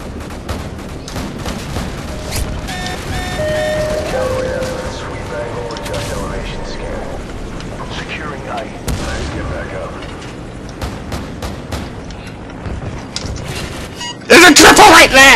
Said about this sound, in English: AC-130 is in the air.